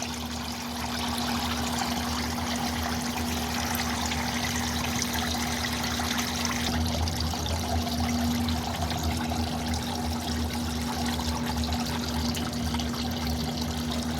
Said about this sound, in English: That's draining right onto that center linkage sway bar, and nice and black.